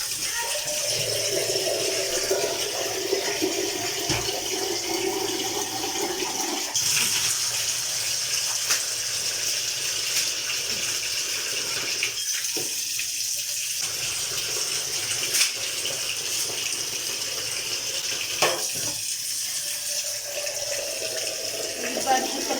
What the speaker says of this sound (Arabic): هجيب بقى شويه ميه كده وابدا ان انا ايه انضف الحيطه واشطفها بقى